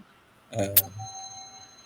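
A bell is struck during a Thai Buddhist monastic assembly broadcast, a single bright strike right after a brief voice, its clear tone lingering and slowly fading.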